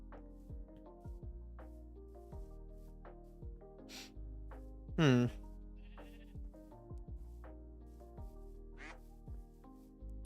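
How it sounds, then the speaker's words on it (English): Sheep in the Minecraft game, with a fossils and archaeology mod installed, bleat over and over, mixed with frequent duck quacks from the same pen. The calls overlap at moderate loudness and one bleat rises louder midway. "I don't mind the sheep as much. They're not loud in my ear."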